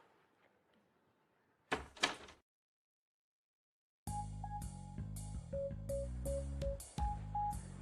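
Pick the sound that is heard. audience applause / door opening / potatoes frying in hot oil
door opening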